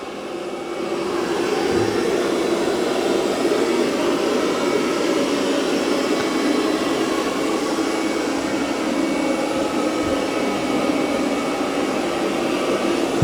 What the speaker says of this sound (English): now it's doing the back and forth